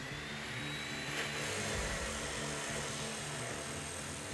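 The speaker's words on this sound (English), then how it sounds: "Once I'm done forging the spikes, I bring them over to the chop saw and cut them to length." An abrasive chop saw with a 14-inch blade, about an eighth of an inch wide, cuts forged steel spikes to length, making a loud, continuous grinding roar with a hissing high edge and a droning low hum.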